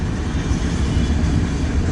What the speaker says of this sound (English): The manifest trains here, you got to keep your eye on.